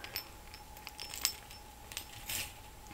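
Keys being taken out of a bag give a few faint, close metallic clinks and jingles scattered over a quiet few seconds, with a brief rustle near the end.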